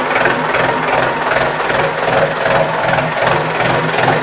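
A modified Hindustan tractor engine runs steadily and loudly up close, its low diesel throb pulsing evenly throughout with a rough, knocking texture and no voices over it.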